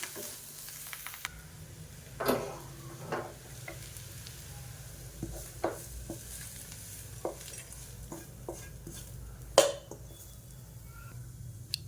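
Hot tempering tipped into appam batter for Karthigai Deepam kara appam, a soft sizzle and stirring with scattered sharp clinks of a spoon against the vessel, fairly quiet and close, no voices.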